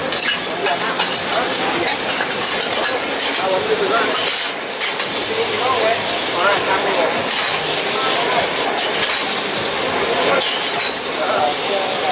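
A chef cooks suki at a night market stall during a Chinese New Year festival, with steady loud hiss and sizzle and stirring noises running throughout amid busy crowd ambience.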